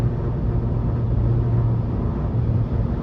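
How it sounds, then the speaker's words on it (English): Front tires of a 2004 Toyota 4Runner SR5 with about 250,000 miles, a steady low grinding rumble under road and cabin noise throughout a drive, loud and continuous without any voices. "I'm hearing a little bit of grinding."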